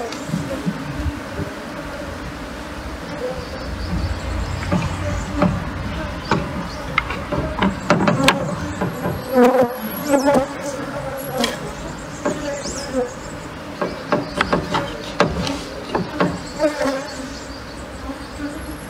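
Many honeybees buzz steadily up close during removal of a roof, their droning hum swelling and fading as individual insects pass near, with occasional faint murmurs in the background.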